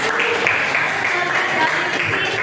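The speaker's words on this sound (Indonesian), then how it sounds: "berikan aplaus ya buat Mami ya" A classroom of students claps steadily in a continuous, moderately loud patter lasting the whole moment, with faint voices mixed in.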